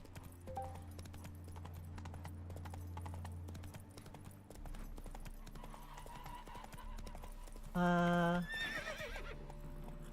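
The horse Roach trots in The Witcher 3, its hooves clip-clopping steadily and close throughout, with a loud whinny breaking in near the end.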